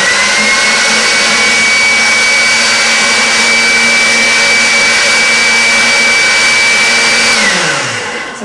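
A motorized pasta machine rolls black fondant with a loud, steady whining hum and a constant tone, close by, before spinning down at the end.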